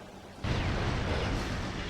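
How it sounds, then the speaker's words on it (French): A blast from an explosion sequence in the video game Ratchet & Clank, set off after a red button is pressed, hits abruptly and then holds as a loud, sustained rumbling roar with no talk over it. "Séquence d'explosion lancée."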